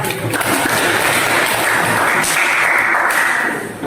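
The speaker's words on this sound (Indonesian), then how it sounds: "Tepuk tangan dulu buat kelompok 1." A class applauding group 1 after their discussion presentation, a loud, dense wash of many hands clapping that holds steady, then eases off near the end.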